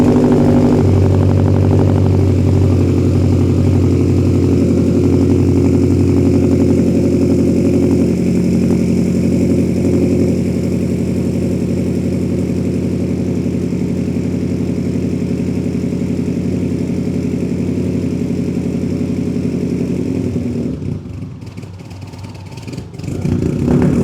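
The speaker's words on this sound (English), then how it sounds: "the ETS Extreme exhaust, like I've already talked about, is very loud" Loud, steady exhaust drone from a Subaru STI with an ETS Extreme exhaust during a cold start, idling high and continuous for about twenty seconds before briefly dipping and resuming.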